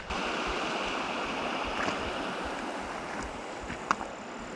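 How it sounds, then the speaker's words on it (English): A river along a natural trail at Emmetts Flat flows in a steady, broad rushing wash close by, with a few faint splashes and knocks near the end and no talking. "Can this river get any more beautiful?"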